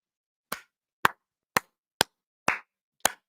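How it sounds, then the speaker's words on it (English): Six sharp hand claps, evenly spaced about half a second apart, crisp and close, standing alone in silence with no talk. "Sometimes you have to clap."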